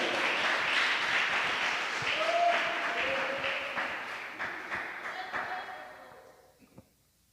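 Sustained applause from a large church congregation, with a few scattered voices calling out over it, gradually fading to quiet by the end.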